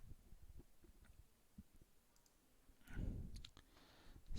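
A few quiet computer mouse clicks in a VLSI layout lab session, scattered sparse taps over faint room noise, with a denser burst of handling sound near the end.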